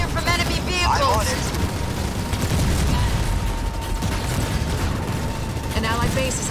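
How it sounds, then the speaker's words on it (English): Enemy vehicles fire in a Halo Wars 2 battle, a dense continuous roar of gunfire and explosions with mechanical clatter, loud and unbroken throughout, with brief synthetic chirps layered over it. "I'm under fire from enemy vehicles."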